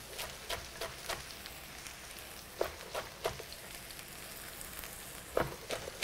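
Chopped sweet onion and greens sizzle steadily in a hot pan with a dense, hissing crackle. Sharper pops and spits burst out every second or so, close by, with no voices.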